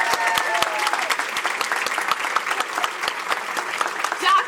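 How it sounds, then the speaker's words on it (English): A room of attendees at a presentation applauds guests asked to stand, a dense, steady wash of clapping from many hands, fairly close and sustained, with a few murmuring voices underneath. "give them each a round of applause"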